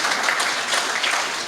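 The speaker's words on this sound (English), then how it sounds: "give them a round of applause" Brief applause from an audience at a regional sports awards ceremony as award presenters head to the stage, moderately loud and even, with a few sharper claps surfacing.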